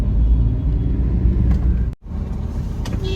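Moving road traffic on the highway toward Gangtok, Sikkim: a continuous low rumble of passing cars and buses, close and steady, with a brief sharp dropout midway before the drone resumes.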